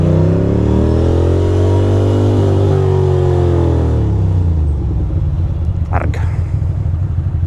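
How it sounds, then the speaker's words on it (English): A car driving past in a Brooklyn-to-Manhattan city ride, heard as a loud, close engine rumble that rises and then falls away, with a brief sharp burst near the end. "That was a cute car."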